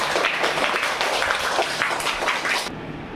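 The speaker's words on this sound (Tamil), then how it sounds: "மாணவனுக்கு கைதட்டு, எல்லாரும் ஒரு பலத்த கைதட்டில் கொடுத்துடலாம்" Audience at a school Children's Day celebration applauds a fifth-grade student who won first prize: dense, steady clapping from many hands fills the room for about three seconds, then fades.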